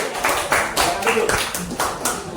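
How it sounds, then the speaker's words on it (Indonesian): A class of students clapping in applause for a group of classmates, a few seconds of uneven, bursting claps with a voice or two mixed in. "Tepuk tangan dulu untuk kelompok kelas 1."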